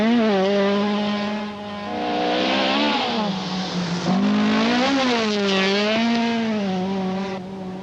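A Rothmans Opel rally car at the 1983 Rally of the 1000 Lakes races past at speed, its engine loud and close as it rises and falls in pitch through gear changes, with a brief dip between surges.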